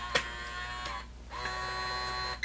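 A Kwikset Powerbolt 2 electronic deadbolt's motor drives the bolt out with a steady, close, buzzing whir. The whir pauses briefly midway, then resumes and runs to the end.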